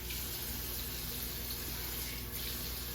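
Cold water runs from a kitchen tap in a steady, close gushing stream, continuous and fairly loud, with no voices over it.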